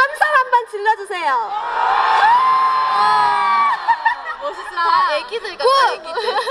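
A concert crowd at a university festival stage show shouts and cheers loudly in a sustained burst of whoops and screams, with a voice speaking over the start and end.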